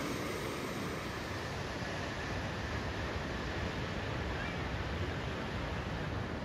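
Ocean surf on California's Lost Coast rushes against the shore in a steady, broad wash of noise that stays loud and continuous throughout, with no distinct pauses between breaking waves.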